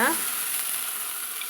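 Urad dal sundal fries with onions in a pan, a soft, brief, steady sizzle with a faint stir at the start.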